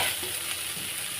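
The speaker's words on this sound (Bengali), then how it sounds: "ডালটা ভালো করে ভেজে দেব।" Lentils for plain dal frying in oil with dried red chilli in a wok, a short, steady sizzle heard up close.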